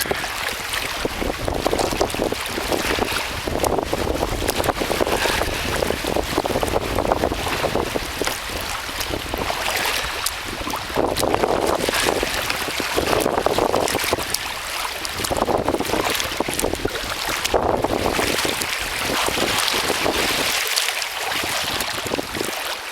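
Steady, loud wind roars and buffets the microphone while kayaking on Lake Hamilton, with splashing water mixed in, continuous and unbroken for the whole stretch with no voices.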